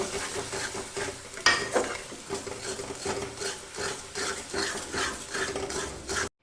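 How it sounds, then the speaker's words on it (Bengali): Ground shrimp and cauliflower paste fries in oil as a spatula stirs and scrapes it steadily against the pan, a rhythmic close scraping over a faint sizzle, with one sharper knock early on. "এবার আমি এটা তেলের মধ্যে দিয়ে দেবো আর খুব ভালো করে এটাকে এখন আমি নেড়ে একদম শুকিয়ে নেব"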